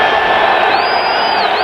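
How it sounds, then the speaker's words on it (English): A large football stadium crowd roars continuously at a Green Bay Packers vs Tampa Bay Buccaneers game, a dense sustained cheer with a whistle rising partway through. "The crowd really in it"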